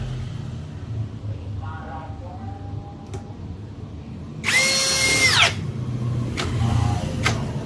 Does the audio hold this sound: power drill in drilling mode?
yes